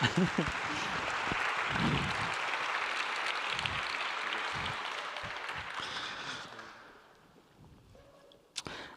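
Final applause for a student jury at a teaching and learning conference closing: a sustained round of clapping from a seated audience that fades out toward the end, followed by a brief sharp knock.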